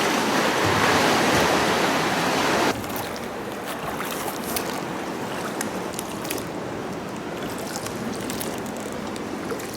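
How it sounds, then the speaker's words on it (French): Water sloshes and splashes around a rowed dinghy in Sardinia, a rushing hiss that drops in level early, followed by scattered splashy oar strokes. "j'aimerais beaucoup que Michael rame un petit peu plus vite"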